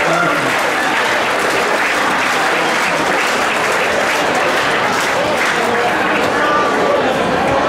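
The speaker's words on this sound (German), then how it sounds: "Großen Applaus für Arne Rudi." Steady, dense applause from a crowd at an award ceremony during a marksmen's festival, a loud continuous wash of many hands clapping with faint crowd chatter underneath, sustained throughout without pause.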